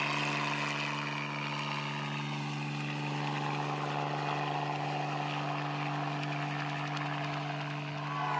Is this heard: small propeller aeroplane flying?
yes